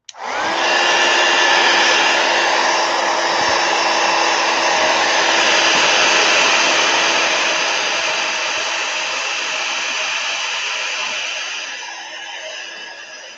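A hair dryer blows steadily on a Crayola watercolor painting, a loud, continuous whirring hiss with a constant motor hum that starts abruptly and runs alone for about thirteen seconds, easing slightly near the end.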